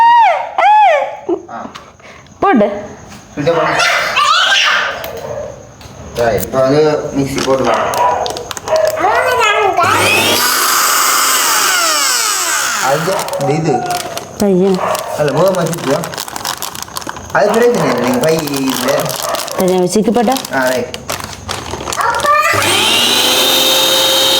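A kitchen mixer grinder whirs in a loud burst midway and again at the end, between stretches of lively talking and other voices and sounds.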